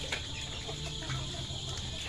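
Chickens on a small farm clucking faintly at feeding time, a few soft distant clucks over a quiet outdoor background with insects chirping.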